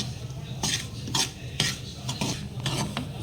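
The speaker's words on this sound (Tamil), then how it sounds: "சூடு வர வரைக்கும் நல்லா வறுத்தாச்சு" Semolina dry-roasts in a pan while a metal spoon stirs it, giving repeated scraping clinks against the metal at an irregular rhythm, close and clear, with no voices.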